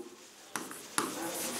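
Handwriting during a history lesson on proto-history, a couple of short scratchy strokes against a quiet room, close and fairly soft.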